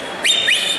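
A person at a comic convention Q&A gives a short, clear, non-musical whistle made of two quick rising chirps.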